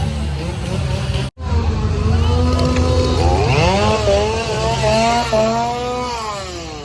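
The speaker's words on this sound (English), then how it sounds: "Do I dare walk through the chainsaws?" Chainsaw engines rev and whine at a Halloween Horror Nights scare zone, pitch climbing and dropping, fairly loud amid background noise, with a brief cut-out early on.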